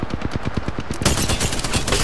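Rapid automatic gunfire in a shooter game, a close, loud burst of evenly spaced shots for about a second that gives way to a denser, noisier spray of fire and impacts, with no voices.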